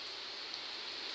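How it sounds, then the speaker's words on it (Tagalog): Heavy rain falls outside a home kitchen, a steady broadband hiss of drops that is loud and continuous with no pauses, and nobody speaks. "ang lakas na naman ng ulan sa labas."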